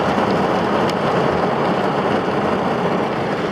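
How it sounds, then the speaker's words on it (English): Heavy rain pours down steadily and loudly, a dense continuous hiss with no talk over it. "That rain is bad."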